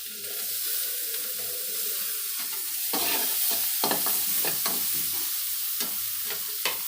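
Grated ginger and chopped green chili sizzle in melted butter in a pan for a vegetable cutlet, a steady close frying hiss broken by repeated scraping stirs of a spatula.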